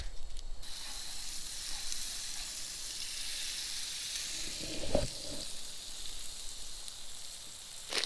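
Butter sizzling in a pan at an outdoor cookout for freshly caught cutthroat trout, a steady close hiss throughout with a brief clatter midway.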